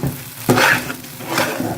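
Dalda shortening sizzles as it is stirred into a custard powder halwa in a pan, giving a close, loud frying hiss with a couple of scraping strokes.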